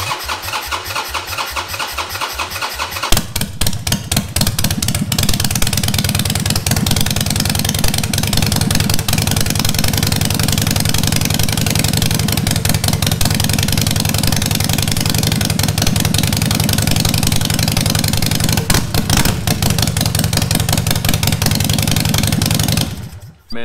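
A Harley Sportster fitted with a LAF titanium exhaust cranks with a few chugging turns, then fires up and keeps running loud and steady with a throaty, pulsing rumble until it cuts off abruptly at the end.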